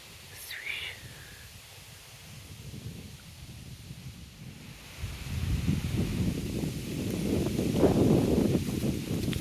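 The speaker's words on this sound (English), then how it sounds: "Wind's getting up." Wind rises outdoors in oak and beech woodland, a soft rustling hiss that swells into a fuller, louder rush in the second half.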